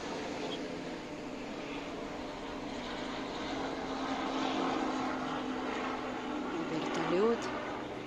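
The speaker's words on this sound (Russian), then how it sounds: "Вертолет" Steady engine drone of a helicopter overhead, a continuous rotor hum that swells slightly partway through, with faint voices underneath.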